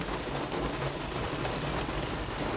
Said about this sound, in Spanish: Así llueve en Miami.